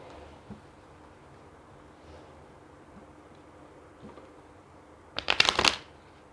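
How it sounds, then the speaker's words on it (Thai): A deck of tarot cards is shuffled in one quick, crisp riffle lasting under a second, coming after a long stretch of near silence. "ขอล้างไพ่หน่อย พลังงานจะได้กระจายกระจายนะคะ"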